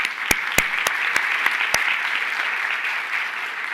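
Audience applause at a county schools education report event, a steady sustained clapping from a crowd with a few sharp, louder claps standing out near the start, fairly close and even throughout.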